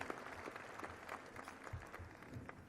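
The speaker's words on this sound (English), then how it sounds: "everybody just give yourselves a round of applause for being here" Audience applause at the Inglewood State of the City Address, a steady patter of many hands clapping through a hall for under three seconds, moderately quiet and without speech.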